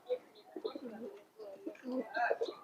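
Pigeons in a loft holding Bagha and green-necked racing pigeons coo in repeated soft, throaty bursts at close range, with a voice heard faintly among the calls.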